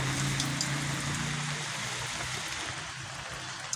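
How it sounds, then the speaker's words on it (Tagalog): Rain falls outdoors in a steady, dense hiss with a low droning hum underneath, moderately loud and continuous, with no voices. "Kasi yung ulan pabugso-bugso."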